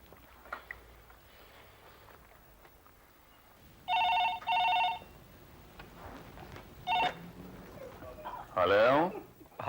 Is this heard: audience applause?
no